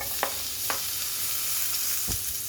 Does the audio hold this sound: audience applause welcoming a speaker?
no